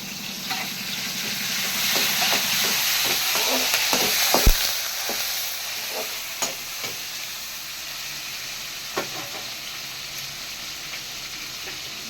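Tomatoes hitting hot oil in a pan of prawn masala for Madurai-style prawn thokku, giving a steady loud sizzle and hiss with occasional clinks and stirring scrapes over the frying.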